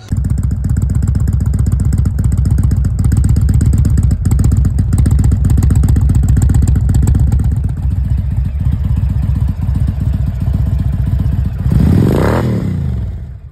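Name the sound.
Indian Chieftain motorcycle engine running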